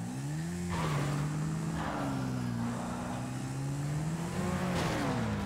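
A motorcycle engine in GTA 5 Online, likely a Sanchez dirt bike, revs and drones steadily in a rising and falling tone, loud and close throughout with a few surges of throttle.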